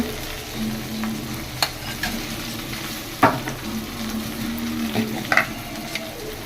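Raw banana curry with turmeric, ginger-garlic paste and green chillies sizzles steadily in a pan, with a few sharp scrapes and knocks of a spoon as it is stirred, close up and with no talk.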